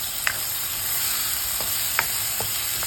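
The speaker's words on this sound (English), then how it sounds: "So now the onions and chilies, onion has become translucent, so we are adding fennel seeds" Onions and chilies sizzle in hot oil in a pan for a spicy tofu and tomato curry, a steady, loud, close frying hiss with a few light stirring taps.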